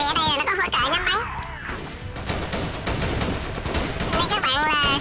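Automatic gunfire from M16A3 and M4A1 rifles in the video game Chiến Dịch Huyền Thoại, dense, steady bursts running through the middle, with tonal voice-like sounds at the start and end.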